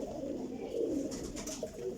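Low, rolling coos from a flock of flying pigeons, kept in a loft in Jhelum, continue steadily for a couple of seconds, close and moderately loud with no one talking.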